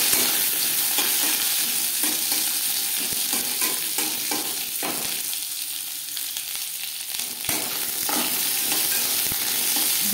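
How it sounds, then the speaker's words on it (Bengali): Mustard seeds popping and mango pieces frying in hot oil in a pan, a dense steady sizzle with stirring scrapes and small crackles throughout, close and fairly loud, with no talk. "সর্ষে ফুটতে শুরু করে দিয়েছে। এই পর্যায়ে দিয়ে দেব টুকরো করে কেটে রাখা আম।"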